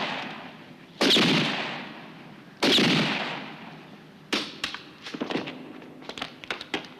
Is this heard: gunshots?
yes